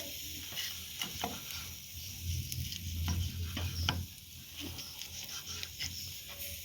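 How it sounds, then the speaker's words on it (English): A Lizon knife slicing through a cooked steak, pink inside, giving soft scraping and sawing strokes over a sizzling, crackling background, close and moderately loud, with no talking. "I'm using my Lizon because I've always wanted to see if this thing is good at cutting steaks."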